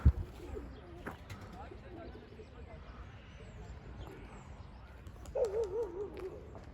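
Arab pigeons flying outdoors over a loft area, with soft cooing rising near the end over steady background noise; someone talks intermittently throughout.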